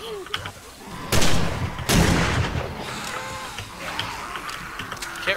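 Gunfire in a zombie shooter video game with a 9mm weapon, heard as heavy bursts of close shots in two loud clusters over a busy, rumbling game soundscape.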